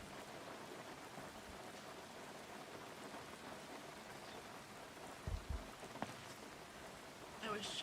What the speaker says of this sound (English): Are you out in this rain?